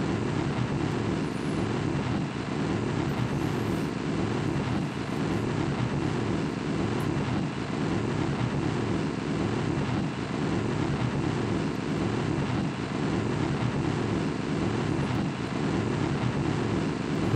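A rocket engine roars steadily during a launch in Kerbal Space Program, a broad, even rumble that holds without letup and is heard alone, with no voices.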